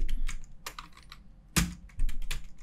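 CSS code being typed on a computer keyboard, a quick run of close clicking keystrokes with one sharper louder key hit partway through, no talk.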